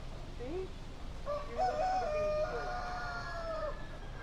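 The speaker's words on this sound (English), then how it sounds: "So her new friend, the chicken, the rooster." A rooster on a small farm gives a drawn-out crow with a short cluck before it, moderately near and clear over a faint background.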